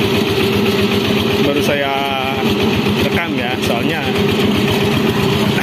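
A Changfa diesel engine runs steadily at idle close by, its dense repetitive chugging continuous throughout while someone talks over it.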